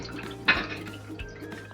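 Tamarind water being strained for a Malvani-style kulith pithi gives a soft trickle and a couple of small splashy drips over a low kitchen hum, close and quiet.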